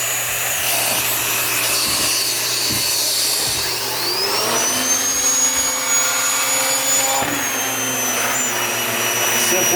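Wessel Werk turbo nozzle on a central vacuum running continuously with a loud whooshing roar, its pitch rising and whining as the head moves across the floor.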